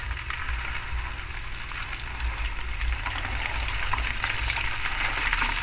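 Steady, loud crackling and popping of water spitting in hot ghee in a pot, continuous and close, with no voices.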